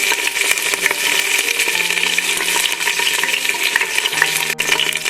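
Ginger garlic paste and green chillies frying in hot oil for Sunday mutton masala, a loud close sizzle with spoon stirring and scraping against the pan throughout.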